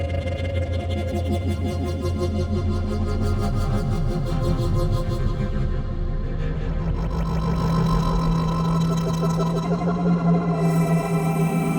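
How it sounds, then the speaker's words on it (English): A steady ROLI Equator synthesizer pad holds a sustained, layered chord, its tone swirling and wobbling as an autopan effect sweeps it continuously; no voices. "let's get some autopan on"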